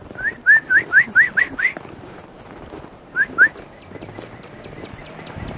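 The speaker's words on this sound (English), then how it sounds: "Oh, that bird is happy, eh?" Bird singing nearby in Montreal's Hochelaga borough after a February snowstorm: a quick run of six clear rising whistles, a pause, two more, then fainter chirps trailing off.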